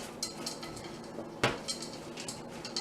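A spoon stirs melting chocolate in a pot, giving soft scrapes and light metallic clinks with one sharper knock midway, with no talking.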